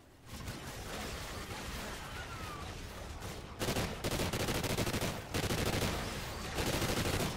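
Sustained automatic gunfire from the Call of Duty Ghosts Extinction game mode, dense rapid bursts rolling on for several seconds, growing louder and heavier in the second half with short gaps between volleys.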